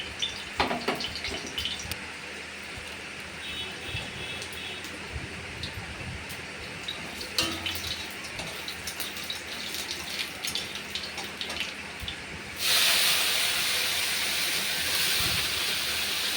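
Water spinach dropped into a hot pan, a busy crackling hiss with scattered clatters that swells abruptly into a loud, steady rushing sizzle near the end.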